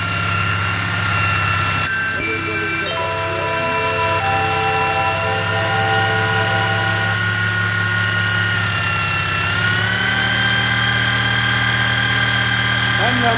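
A mini water or wind turbine alternator runs with a loud, continuous droning hum and layered tones that shift slightly in pitch partway through, steady for the whole stretch.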